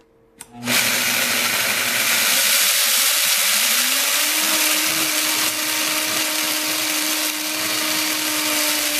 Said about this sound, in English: I'm going to turn the machine on and increase the speed to variable 10